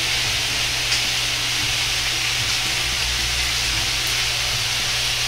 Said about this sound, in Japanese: 生姜焼きなので炒めたりせずに肉をそのまま触らないようにして焼いていきます。